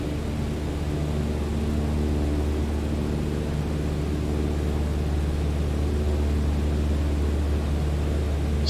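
A steady, loud drone from a small plane's engine in Microsoft Flight Simulator 2020, throttled back to about 2300 rpm in level cruise, a constant unbroken hum with no voices.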